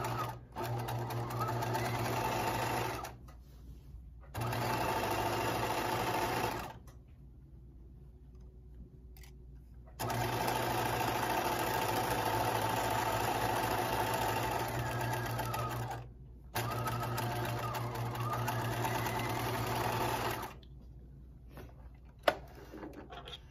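A sewing machine stitches a 1/4 inch seam in romper fabric with a steady mechanical whir. It runs in long bursts, stops briefly and starts again, and is moderately quiet and close.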